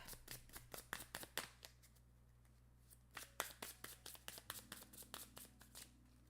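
Cards from the board game Capybara Crush & Otter being shuffled by hand, heard close up as a run of quick, crisp riffling bursts with short pauses between, fairly quiet and without speech.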